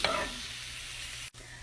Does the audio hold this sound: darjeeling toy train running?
no